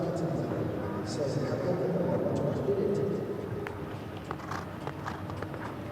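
A ridden show-jumping horse entering an outdoor arena at an equestrian tour in Doha, its faint hoof clip-clops almost buried beneath a steady crowd and arena murmur.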